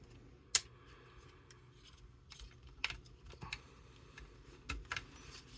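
Plastic Transformers Studio Series 86-19 Snarl figure being folded up, with scattered small clicks and snaps of plastic parts, one sharper click early on, the rest soft and close.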